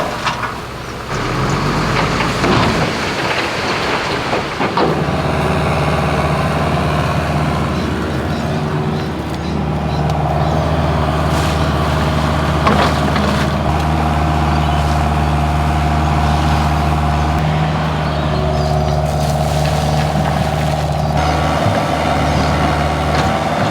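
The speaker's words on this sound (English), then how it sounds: "He's just turned up with his big dump truck with a load of rock gravel. He's going to tip that out and start spreading it." A big dump truck tips a load of rock gravel at a shed build site, its heavy diesel engine droning loudly and steadily with a burst of rumbling, sliding rock early on.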